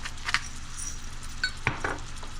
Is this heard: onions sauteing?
yes